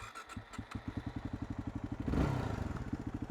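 A fuel-injected motorcycle engine catches and runs at a fast, even idle with rhythmic pulsing exhaust beats, then a brief rev before it settles back to idle; quiet and with no talking.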